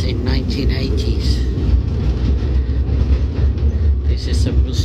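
A museum rail train ride from the 1980s era, with a steady loud rumble and rolling clatter of the carriage on the track throughout, and talk over it.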